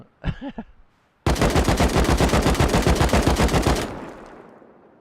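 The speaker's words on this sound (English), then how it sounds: "Look at my assault rifle." An assault rifle in the game Rust fires one long, loud, rapid automatic burst of evenly spaced shots lasting about two and a half seconds, with a short reverberant tail. A few quick handling clicks and clanks come just before it.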